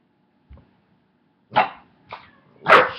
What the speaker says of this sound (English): My dog chewing a freaking swim trunk.